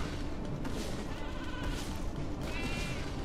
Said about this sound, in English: The sheep are back!